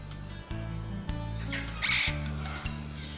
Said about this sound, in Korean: 이번에는 뉴기니아 앵무새를 마주합니다.